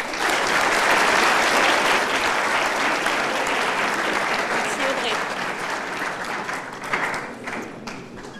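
Loud, sustained audience applause fills a conference hall, dense clapping from a large crowd that holds strong before gradually tapering off, greeting a speaker taking the stage at an evening talk.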